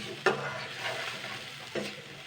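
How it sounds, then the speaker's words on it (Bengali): Batter and potatoes sauté in a pan for a fish egg curry, a steady sizzle broken by two sharp scraping stirs of the spoon against the pan, near and clear, with no talking. "এটা আমি এবারে আলুর সঙ্গে ভালো করে কষিয়ে নেবো"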